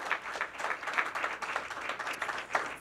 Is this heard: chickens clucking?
no